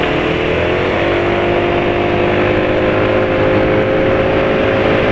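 A motorcycle engine running on Total 4T 300 four-stroke oil, a steady, loud idle-to-mid hum with a constant drone and no talk over it.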